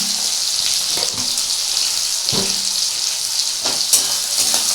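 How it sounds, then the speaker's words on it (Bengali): Onions sizzle steadily in hot oil in a pan while mutton liver is being prepared, with a dense continuous hiss and a few soft stirring scrapes and knocks spread through it. "আচ্ছা পেঁয়াজটা আমি যখন ভাজছি"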